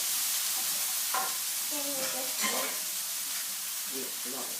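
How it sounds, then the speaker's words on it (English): Black beans being stirred in a sizzling pan, a soft scraping and bubbling sizzle running under intermittent chatter from people nearby. "she's going to stir the black beans in there"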